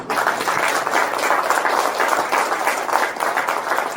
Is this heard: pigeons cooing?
no